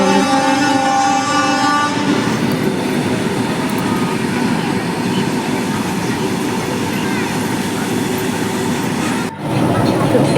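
A goods train rolls past a railway station, a steady loud rumble of wagons with rhythmic wheel clatter continuing throughout, the passage close and unbroken except for a brief dip near the end.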